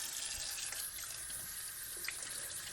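Lemons being washed under a running kitchen tap, a steady close hiss of flowing water splashing into the sink with small irregular splashes as the fruit is handled.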